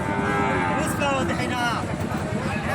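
Cattle at a border cattle market lowing loudly and close, a long drawn moo that fills the short stretch over dense crowd noise.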